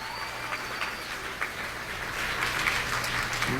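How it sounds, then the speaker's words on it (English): An audience at a 2003 Washington panel event applauds itself: diffuse, steady clapping that swells a little in the second half, heard over a low electrical hum. "Give yourselves a round of applause for being here for this whole week."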